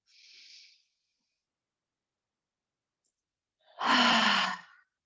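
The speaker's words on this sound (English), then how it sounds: "Let your breathing return back to its natural state now." Breath sounds during a pregnancy yoga session: a soft hissing inhale, a long pause of silence, then a louder, fuller exhale lasting about a second, close to the microphone.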